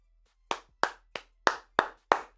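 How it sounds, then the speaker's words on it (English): Seven crisp, evenly spaced hand claps ring out alone in a quiet room, close and distinct, each sharp slap followed by brief silence. "you just can't do anything but clap for Pat Riley"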